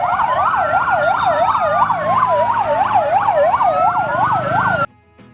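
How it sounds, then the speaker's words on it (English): Toy tank pump truck siren wailing in a fast rising-and-falling pattern, loud and continuous for about five seconds, under a steady tone, then stopping suddenly. "This is tank pump truck."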